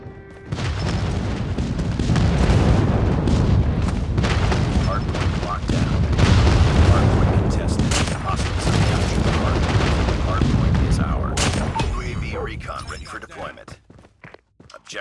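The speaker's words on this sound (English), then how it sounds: "Friendly airstrike incoming." Heavy airstrike explosions rumble through a Call of Duty Mobile multiplayer match, a sustained, loud barrage of booms and gunfire lasting most of the stretch before fading near the end, with game announcer voice lines over it.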